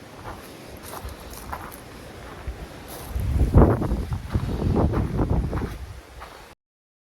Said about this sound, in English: It's really windy, gusty